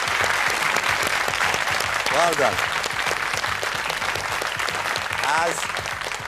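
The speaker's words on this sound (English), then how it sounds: "But give a warm round of applause, please." A quiz show studio audience gives a warm round of applause, dense clapping that runs throughout while a host speaks briefly over it.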